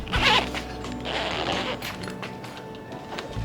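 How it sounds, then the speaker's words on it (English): A rooftop tent zipper being pulled closed in one long, steady rasping run, close by, with fabric rustling along the way. "start zipping your tent back up"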